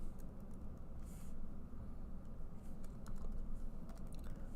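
Soft, quick clicks of a computer keyboard as code is typed, in irregular bursts with brief pauses, close but quiet over a low steady room hum, no voices.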